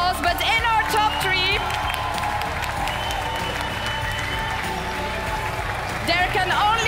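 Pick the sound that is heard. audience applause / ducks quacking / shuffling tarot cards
audience applause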